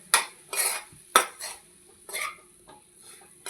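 A spoon stirs coconut curry in a pan, making a series of close scraping and clinking strokes in an uneven rhythm, about six distinct bursts.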